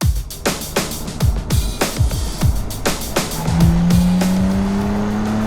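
An Audi A5 with Quattro all-wheel drive driven hard through corners: a fast sequence of gear shifts and engine revs rising and dropping, then a steady, loud engine tone with tyre noise, heard from inside the car without talk.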